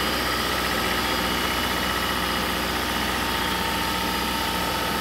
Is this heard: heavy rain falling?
no